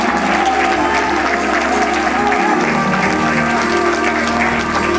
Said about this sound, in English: Let's clap like we want to come back.